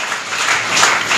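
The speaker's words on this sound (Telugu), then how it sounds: "చప్పట్లు కొట్టు గట్టిగా." Church congregation clapping hard during an energetic Telugu sermon, a dense steady wash of many hands filling the room with no pauses.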